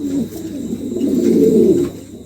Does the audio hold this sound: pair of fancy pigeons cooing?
yes